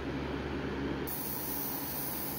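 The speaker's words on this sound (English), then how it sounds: "I'm experimenting with spraying KBS on this lure, even though it requires more safety precautions than normal." Steady broadband hiss of an airbrush spraying KBS coating onto a wooden fishing lure, continuous and close, with the spray tone shifting partway through.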